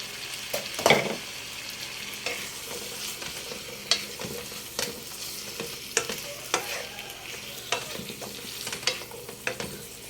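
Vegetables stir-fried in a pan for chop suey, with a constant sizzle punctuated by regular spatula scrapes and clinks, close by and without talk.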